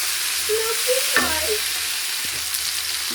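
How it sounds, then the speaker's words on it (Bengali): Chopped tomato fries in a pan for muri fry, a close, busy sizzle stirred a couple of times, with a few short clinks over about three seconds. "টমেটো কুচিগুলাকে একটু ভাজবো"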